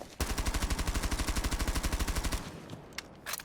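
Rapid automatic fire from a gun in the tactical shooter Rainbow Six Siege, a close, loud, evenly spaced stream of shots lasting about two seconds, then a few faint clicks and handling sounds.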